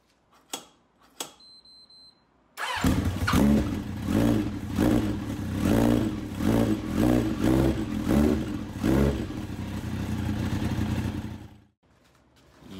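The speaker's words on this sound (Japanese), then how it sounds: "一っぺエンジンかけてみようかな。" A couple of clicks, then an engine cranks and catches after a repair for black smoke, chugging in a rhythmic pulsing idle for several seconds before cutting off.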